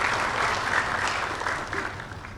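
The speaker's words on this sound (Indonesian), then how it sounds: "Tepuk tangan untuk Bapak Rektor kita" An audience at a Universitas Paramadina graduation ceremony applauding the university rector, broad sustained clapping from a large hall that eases off slightly toward the end.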